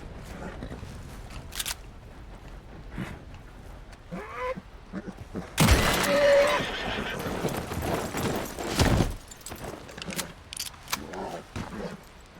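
Horses whinnying and neighing in Red Dead Redemption 2, with a loud close neigh amid hoof clip-clop, scattered gunshot-like bursts and faint game sounds.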